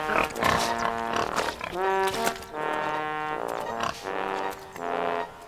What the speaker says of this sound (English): Thomas was watching the pigs roll in the mud.